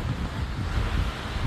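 Strong, gusty wind buffets the microphone outdoors, a steady dense roar with no let-up and no voices.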